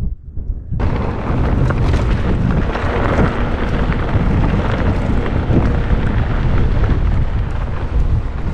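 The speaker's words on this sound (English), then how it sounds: "It's windy here." Strong wind roars across an open trail in the North Dakota Badlands, buffeting the microphone with a loud, steady, low rumble that starts abruptly and never lets up.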